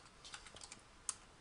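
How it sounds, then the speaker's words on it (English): A few quick keystrokes on a computer keyboard while entering a disc title in burning software, faint and close, with one sharper key click near the end. "you could type in a name"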